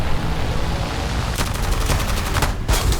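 Aircraft gunfire in the video game War Thunder: loud rapid bursts of machine-gun fire over a steady engine roar, with a short pause before a final burst.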